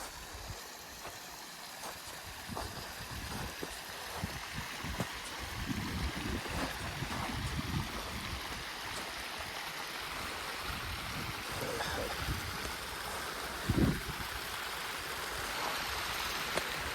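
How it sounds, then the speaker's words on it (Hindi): Steady rushing of a mountain stream in Saran Valley, Mansehra, fills the clip, a continuous broadband wash with a brief louder splash near the end, no voices. "ये पानी की आवाज़ सुन रहे होंगे आप"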